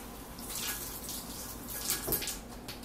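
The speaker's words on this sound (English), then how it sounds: "Okay, I'm going to run this under the water real quickly." Running tap water splashes over a wooden bow siyah being rinsed, a steady close hiss of flowing water with light splatter, no voices.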